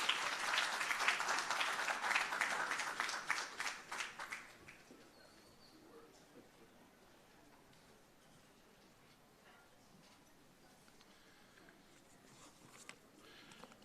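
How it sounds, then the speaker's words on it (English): An audience at a Tourism Linkages Network Christmas in July event applauds a minister: a burst of many hands clapping for about four seconds, then it dies away into a quiet room with only faint scattered sounds. "Please give him a round of applause,"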